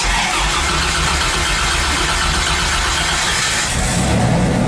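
Turbocharged V6 Dodge Dakota engine cranking and catching on a jump start, a dense, loud mechanical roar throughout with a low rumble that shifts near the end as the engine settles into running.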